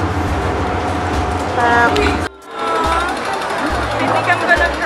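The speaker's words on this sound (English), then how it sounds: "Disneyland train." An amusement park train at Hong Kong Disneyland gives a continuous rumbling, clattering ride noise with mechanical rattles. It cuts out briefly partway through, and voices talk over it.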